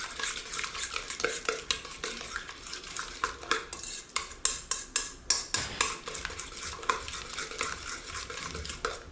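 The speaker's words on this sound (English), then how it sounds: "mixy mix with my spoon" Meatloaf ingredients stirred in a bowl with a spoon: rapid, rhythmic scraping and clinking strokes, close and fairly loud, continuing steadily with no talk.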